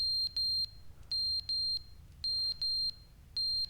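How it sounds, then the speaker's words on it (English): A fire alarm in The Stanley Parable sounds in loud, clear electronic beeps, paired pulses separated by brief gaps and repeating in a steady rhythm throughout. "Fire alarm."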